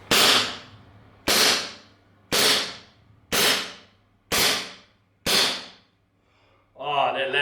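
A WE Tech Luger P08 blowback airsoft pistol fires six sharp, loud, close shots spaced about a second apart, each with a short decaying tail, followed by brief rustling handling.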